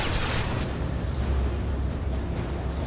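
An explosion in the video game Mass Effect 2 gives a loud, sustained, rumbling blast with heavy low-end roar and debris crackle throughout, no talk over it.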